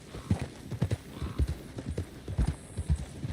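Stagecoach horses clopping along in the video game Red Dead Redemption 2, a steady run of hoof strikes in a repeating rhythm, close and fairly loud throughout with no voices.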